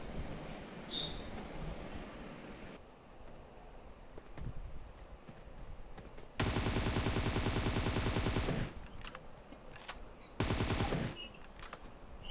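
Two bursts of rapid automatic rifle fire from M762 and M416 guns in the PUBG battle royale game, each lasting a couple of seconds. Both stand out sharply over a quieter in-game background.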